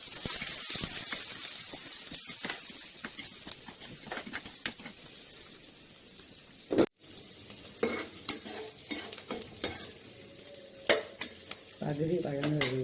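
Ground ginger paste sautés in a pan for a chicken liver fry, a crackling sizzle punctuated by scraping, stirring and metallic clinks of a utensil against the pan.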